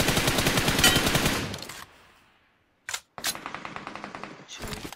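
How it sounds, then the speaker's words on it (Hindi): Gunfire in a PUBG-style battle royale game, a fast burst of repeated shots, then near silence, then two sharp isolated cracks and another rapid volley, loud and close. "छोटे वाले घर से स्नाइपर चला रहा है"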